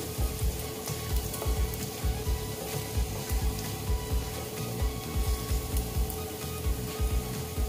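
Chopped garlic fries in a pan, giving a steady, close sizzle with soft rhythmic stirring scrapes throughout and no voices.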